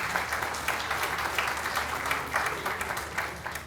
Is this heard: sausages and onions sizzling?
no